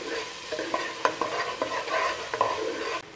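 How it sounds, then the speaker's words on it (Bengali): Spoon stirring spices into chicken khichuri in a hot pan, soft scraping strokes with light clinks over a faint sizzle, close and steady for a few seconds. "এবার আমরা এটাকে নাড়াচাড়া দিয়ে খুব সুন্দর করে এটার সঙ্গে মিশিয়ে নিচ্ছি।"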